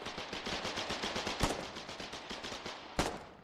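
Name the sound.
gunfire from video game Foxhole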